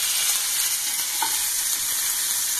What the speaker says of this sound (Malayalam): അതിനുശേഷം അതിലേക്ക് നമുക്ക് കറിവേപ്പില ഇട്ട് കൊടുക്കാം.